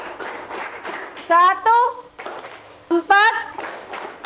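A class claps hands in a counting game led by a teacher, with short, crisp claps in small clusters; a voice counts out loud over and between them.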